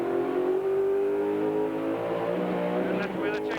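ATCC touring car engine downshifting to second gear on the Bathurst pit straight, its strong, sustained note shifting in pitch while a voice talks over it.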